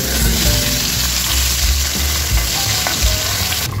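Tilapia sizzles steadily in hot oil after being turned in the pan, a loud, continuous crackling fry with faint spatters throughout and no voices.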